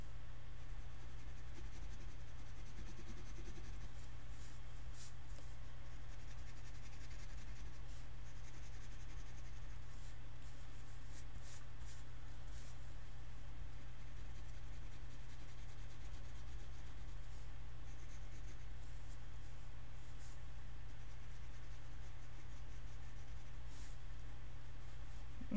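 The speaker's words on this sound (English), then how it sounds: "So I'm just putting in the graphite right now." Graphite pencil shading on paper, a soft, steady scratching of the lead laid down in continuous strokes, very faint and close, with no voices.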